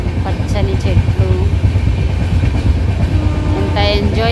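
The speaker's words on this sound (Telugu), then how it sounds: "మేము గుంటూరు ట్రైన్లో జర్నీ చేస్తున్నాము" A passenger train bound for Guntur rolls along its rails with a steady low rumble and rattling carriage noise, while a voice talks over the ride throughout.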